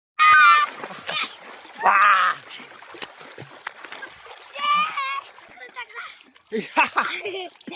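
Bursts of water splashing from swimming recur every second or two, mixed with children's shouts and chatter close by.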